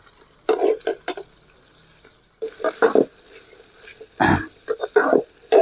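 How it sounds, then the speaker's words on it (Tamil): Okra goes into a pan of softened onion and garlic for a Chettinad okra mandi and is stirred, with intermittent scraping and sizzling bursts separated by brief quiet gaps. "இந்த வெண்டைக்காயை நம்ம இதில் போட்டு நல்லா வதக்கிக்கலாம்."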